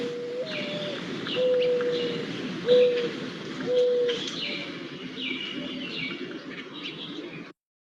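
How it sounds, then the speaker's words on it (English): A mourning dove's soft, low cooing repeats several times over a busy background of other birds chirping and twittering. "Morning doves, if you hear this, it's a morning dove."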